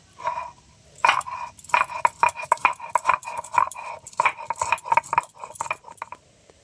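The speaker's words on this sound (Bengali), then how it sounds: "আমি চারটে এলাচ নিয়েছি এটা একটু গুঁড়ো করে নেবো" Four cardamom pods are crushed by hand while making gujiya, a sweet pastry. Irregular clinking taps and crunchy knocks come in close, busy bursts separated by brief pauses, with no speech.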